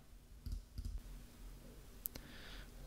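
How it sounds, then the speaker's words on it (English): A few quick computer mouse clicks, soft and close, in a quiet room with faint background hiss. "I can actually open that up just by double clicking it."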